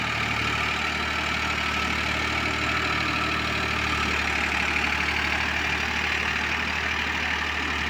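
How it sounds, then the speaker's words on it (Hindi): A Farmtrac 60 EPI tractor with power steering and Goodyear tyres runs at about 2000 rpm under heavy load, giving a steady, close diesel drone with no talk. "2000 पे ट्रैक्टर चल रहा है"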